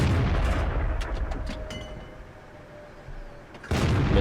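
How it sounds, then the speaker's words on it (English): Tank cannon shot in the World of Tanks video game: a deep booming blast at the start, its rumble fading, then a second heavy shot near the end, loud and close with no talk. "Missed my first shot, second one doesn't."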